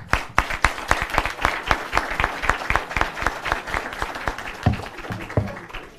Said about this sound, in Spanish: lo recibimos con un cálido aplauso